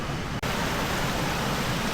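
Heavy rain pours down in a village as a dense, steady hiss and patter, loud and continuous, with one brief dip at the start.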